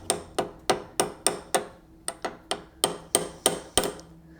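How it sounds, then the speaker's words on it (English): Small hammer chipping the pearl inlay out of a Martin D-45 acoustic guitar, a dozen sharp close taps in a steady, slightly uneven rhythm, each with a short ringing decay. "I think I'll get a heavier hammer"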